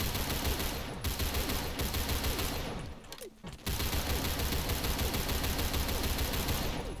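Fully automatic gunfire from a 400 RPM, 30-round weapon in the shooter game Phantom Forces: a loud, sustained run of rapid shots with a brief pause near the middle, then firing resumes steadily to the end.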